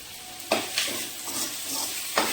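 Red chillies, curry leaves and tamarind are sautéed in a pan, producing a soft sizzle with a few sharp scraping stirs at intervals, heard close and without talk.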